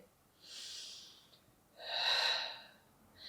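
Two audible breaths from a Pilates beginner class: a soft airy exhale followed by a longer, louder inhale, then the start of another, close and clear in a quiet room.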